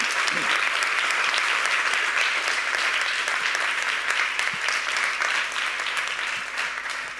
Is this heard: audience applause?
yes